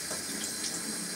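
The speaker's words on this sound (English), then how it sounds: "So just let the water run until you've put it to a warm temperature." Tap water runs into a large bathroom basin while warming up, a close, steady splashing rush with no voices.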